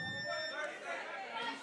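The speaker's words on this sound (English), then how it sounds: "As the warning buzzer rings, Dredge with a good hit there." Warning buzzer sounding at a club boxing match between USC and Clemson, a steady tonal drone with harmonics held for under two seconds beneath crowd chatter and commentary-level noise.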